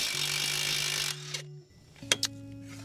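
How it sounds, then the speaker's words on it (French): Impact wrench on a car's driveshaft axle nut during a CV boot replacement, a loud sustained whirring burst for about a second, followed by a pause and a few sharp metallic clicks and knocks. "Donc je mets ma clé à choc."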